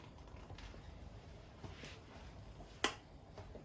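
An electric kettle switches itself off during a dry boil safety test, making one sharp, faint click near the end against quiet background hiss.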